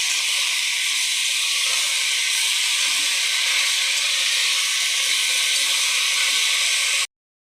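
Pumpkin greens sizzle and fry in a hot pan, a loud, steady hiss holding evenly for about seven seconds before cutting off abruptly.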